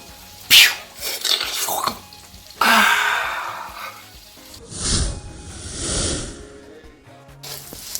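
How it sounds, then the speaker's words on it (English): Shrimp frying in a pan for shrimp and noodles gives a bursting sizzle that swells and fades in waves, with clatters of utensils against the pan, nearby and fairly loud with no talk. "So we let it fry for some time"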